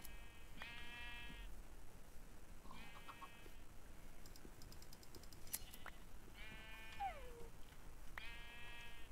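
Sheep in the Minecraft video game bleat in several short, separate calls spread across the stretch, clear and moderately close over a steady low background hum, with no talking.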